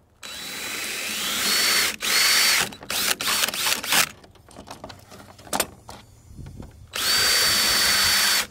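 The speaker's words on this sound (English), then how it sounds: "So I'm having to drill these holes a little bit wider" A power drill bores holes in wood, being widened to take bolts while building a Murphy bed with couch, in close, loud bursts of about two seconds, then shorter stuttering runs, and a final long bore.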